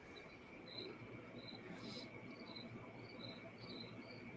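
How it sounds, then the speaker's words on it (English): A cricket chirps in short repeated bursts in a yard at night, faint and distant over a soft background hiss. "I've been thinking there's a cricket in my yard this whole time"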